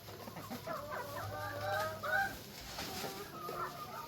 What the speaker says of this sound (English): Get out here, chickens.